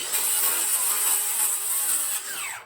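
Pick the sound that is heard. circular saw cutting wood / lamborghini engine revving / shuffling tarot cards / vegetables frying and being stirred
circular saw cutting wood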